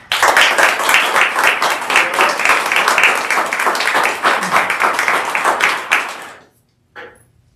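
Audience applause at a school board meeting, a room full of hands clapping in a steady, energetic burst that stops abruptly, followed by a brief faint sound after the silence.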